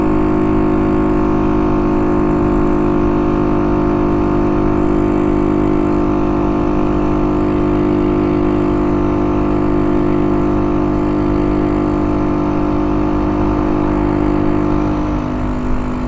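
Kuba RX9 motorcycle engine riding on an evening road, a loud, steady close-up hum with a constant tone and wind rush, holding a nearly even pitch throughout.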